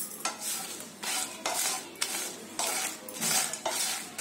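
Whole spices such as dried chillies, bay leaves and dry ginger are dry roasted in a pan for chole masala powder, with rhythmic stirring and scraping strokes repeating roughly every half second, close and moderate in level.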